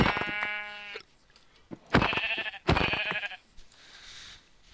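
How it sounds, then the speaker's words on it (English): Sheep in the Minecraft video game bleating: three or four nasal wavering baas in quick succession, close and clear, with brief quiet gaps between. "Ooh, sheep."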